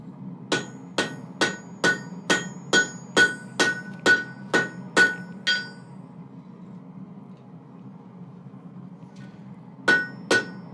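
A steel rasp being forged into a knife takes a rapid run of about a dozen ringing hammer blows at a steady rhythm, close and loud, then a pause with low shop hum before two more strikes.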